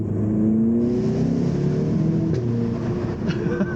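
An Audi TT's engine revs and climbs through gears changed with paddle shifters in manual mode, a close, continuous rising drone with quick shift breaks.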